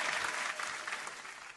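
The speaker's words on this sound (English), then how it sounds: "I'll clap it up for him again." An audience claps steadily for a performer at a live show, a dense burst of applause that tapers slightly over its short span.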